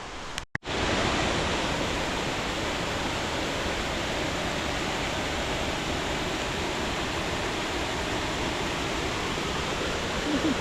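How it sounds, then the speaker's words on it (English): A river with a decent flow pouring over falls, a steady broadband rushing roar that holds constant for about ten seconds after a brief knock at the start. "There's a decent amount of flow in that river. When you see it going over falls, it is anyway."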